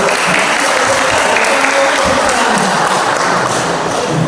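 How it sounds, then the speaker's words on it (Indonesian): Congregation standing for applause at a Sunday church service in Toraja, a dense, steady wash of many hands clapping at once, loud and continuous, with occasional thuds and faint voices mixed in. "Semua berdiri. Tepuk tangan yang benar."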